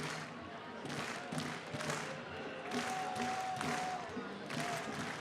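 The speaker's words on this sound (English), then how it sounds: "the crowd starting to get into it a little bit more as this ball game progresses into the last couple of innings" A baseball crowd at a West Michigan Whitecaps versus Lake County Captains minor league game, a steady murmur with scattered claps and cheers swelling in waves, heard at a distance beneath an announcer's voice.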